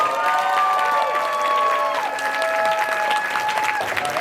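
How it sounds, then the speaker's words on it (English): A convention crowd at an improv Dungeons & Dragons show applauds the party, a loud, dense wash of clapping and cheering that holds steady throughout, with a few whistles rising above it. "let's give our party one more round of applause, please"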